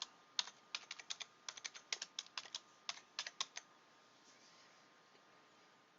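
Quick, uneven bursts of clicking keystrokes on a computer keyboard as text is entered, fairly close and quiet, trailing off into faint room hiss with no talking.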